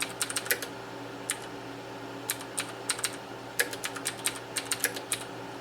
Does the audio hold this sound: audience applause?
no